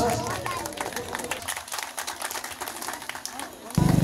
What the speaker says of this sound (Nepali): ताली दिएर स्वागत गरिदिनुहोस्।